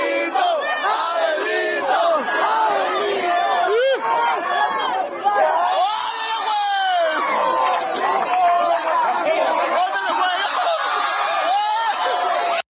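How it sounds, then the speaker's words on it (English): A wrestling crowd at an AEW show cheers and roars continuously, loud and dense, with shouts and chanting voices rising over the steady din throughout. "Crowd's going crazy."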